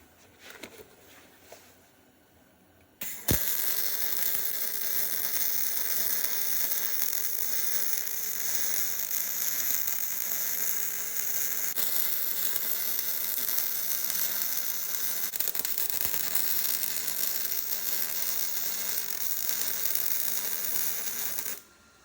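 A welder works on a Mopar 440 deep sump oil pan, starting with a sharp pop and then holding a loud, continuous crackling buzz for nearly twenty seconds before stopping.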